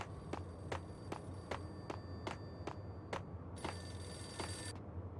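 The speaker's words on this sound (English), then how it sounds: "There was a phone ringing." An old landline-style telephone rings in the video game Max Payne, with eight or nine sharp, evenly spaced bell bursts ending in one longer ring, heard alone over a low ambient hum.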